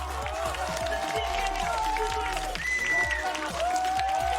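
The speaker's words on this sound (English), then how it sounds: "Well-deserved applause there. Well-deserved cheers." A large arena crowd at an Overwatch World Cup esports match applauds and cheers steadily, a dense roar of clapping and voices filling the space, with a commentator talking over it.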